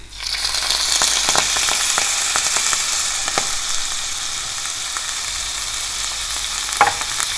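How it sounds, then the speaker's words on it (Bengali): Lachha semai vermicelli frying in ghee, stirred in a pan, producing a loud, steady hiss of sizzling with scattered scraping and crunching stir strokes, a sharper clack near the end, no speech. "আমি পুরোটা ঘি দিয়েছি, আপনারা চাইলে শুধু তেল বা তেল আর ঘি মিশিয়ে এটাকে ভেজে নিতে পারেন।"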